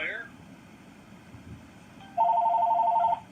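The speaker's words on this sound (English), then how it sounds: "And here we got a phone call." A telephone rings with a steady electronic tone lasting about a second, clear and close, following quiet room ambience at a live poetry reading.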